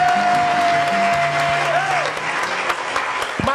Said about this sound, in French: applaudissez pour ça, c'est bon